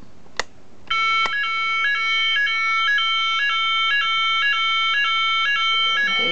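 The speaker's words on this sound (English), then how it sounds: "So if we set this off, you'll see the Roshni sounder go off." Roshni fire alarm sounder in a home alarm system triggered by a call point, a click then a loud repeating electronic two-tone pulsing tone with a steady rhythm, heard clearly without talk.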